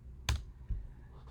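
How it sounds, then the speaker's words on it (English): Two crisp key strikes on a computer keyboard, close and isolated, with a brief pause between them in a quiet room. "notice that I am typing"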